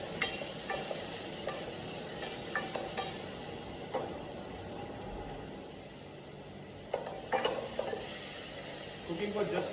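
Onions and leeks stirred and frying in a pan, a low steady sizzle under occasional scraping and clinks of a utensil against the pan, fairly quiet and close.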